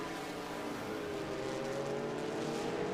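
A Porsche race car climbs the hill at Road America, its engine a sustained, rising drone that stays steady and moderately distant, with no voices over it.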